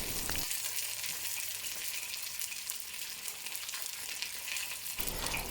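A whole fish frying in a tilted wok for sweet and sour fish, giving a loud, steady oil sizzle with a dense crackling hiss throughout.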